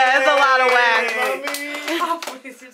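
Hands clap at a birthday gathering, quick claps sounding under loud cheering and sung voices that hold long tones, with the clapping growing scattered toward the end.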